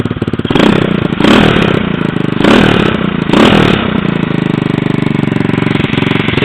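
A 1979 Honda Z50R minibike, customized as a motard with a rear-mounted custom exhaust, runs close by with a steady rattly idle broken by three or four sharp throttle blips.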